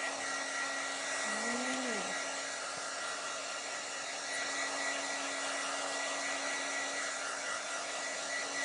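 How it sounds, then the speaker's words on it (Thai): Hair dryer fitted with a concentrator nozzle blowing on freshly washed, towel-dried hair, a steady close airy roar with a constant motor whine and a brief pitch wobble early on, no talk. "หลังจากนั้นก็ใช้นี่เลย จึงหัวเป่าเฉพาะที่นะคะต่อผมให้แห้งมาก"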